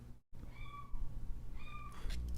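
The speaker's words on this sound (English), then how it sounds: "My cat is screaming like crazy" A house cat meows loudly and insistently, two drawn-out cries close by, with a brief quiet gap before them and other household noise underneath.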